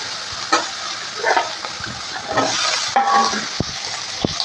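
Radish and tomato fry in a pan while a utensil stirs them, giving a close sizzle broken by scraping strokes and a few sharp clinks against the pan.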